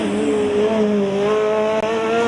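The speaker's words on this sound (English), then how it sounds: "the driver from Kempton really drifting through the cone killer chicane just in front of us" A Formula Student race car at Formula Student Germany endurance drifts through a cone chicane close by, its loud engine holding a steady, strained whine that wavers slightly in pitch throughout, with no talking.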